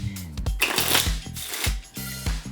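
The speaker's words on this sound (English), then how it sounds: "now we're gonna go ahead and shuffle this up" A deck of playing cards is shuffled close up, with repeated riffling bursts and sharp snaps as the cards are bridged and squared, in a steady rhythm with no talking.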